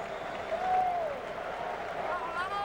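Steady roar of a sellout crowd of more than 62,000 at Veterans Stadium for a 1993 World Series baseball game, a continuous murmur and swell of distant cheering with faint whistles rising above it.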